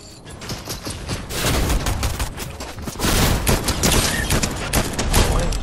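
Heavy, dense gunfire during a Fortnite no-build match: loud, rapid volleys of overlapping shots and sharp cracks that come in waves and keep going throughout, with no voices over it.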